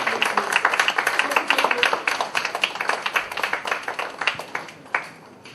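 Sustained applause from an audience at a book launch event, with dense, rapid hand claps that gradually thin and fade toward the end, with some faint voices mixed in.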